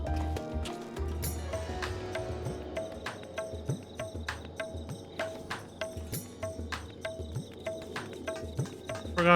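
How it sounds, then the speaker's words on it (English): Crickets in Final Fantasy XIV, a night ambience of repeated short chirps pulsing in an even rhythm over soft background music, moderately quiet with no talk. "I hear crickets!"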